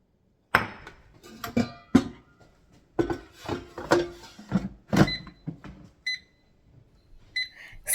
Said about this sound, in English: carefully place them in the basket of the air fryer